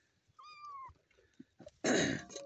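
A small kitten gives one thin, high meow close by, followed by scattered soft rustles and a louder burst of handling noise.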